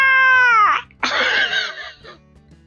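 A voice imitates a rubber chicken squawk, a loud, strained, wavering cry that bends downward, followed by a raspy, noisy burst and a fading tail.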